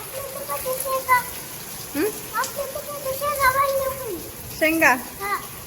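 Heavy rain pours steadily during a windy storm in Latur, a dense hiss throughout, while children and an adult talk over it in short exchanges.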